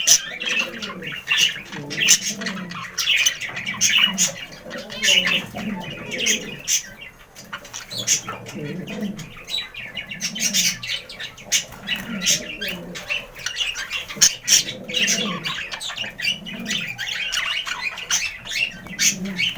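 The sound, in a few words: budgerigars chirping and squawking in a breeding cage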